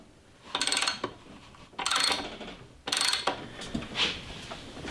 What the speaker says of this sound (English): Drain the old oil using a 3/8 inch square drive.